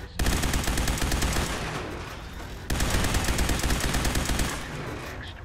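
Gunfire from the video game Fallout 4 rattles in two long, dense, loud bursts of rapid shots with a brief break between them, no voices over it.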